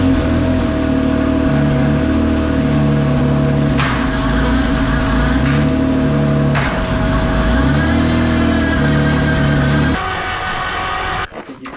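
A 2.5 liter V6 twin turbo race car engine runs loud and close, its droning harmonic tone stepping up and down in pitch with revs before cutting off abruptly near the end.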